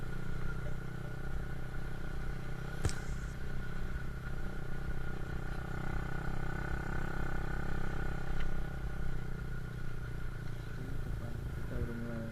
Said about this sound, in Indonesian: Banyak mobil, banyak motor.